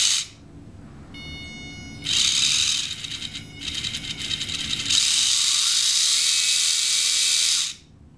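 A WLtoys K989 RC car's small electric motor runs on throttle. It gives a high, buzzing whine that starts, steps up in intensity and holds steady for several seconds before cutting off. Nobody speaks.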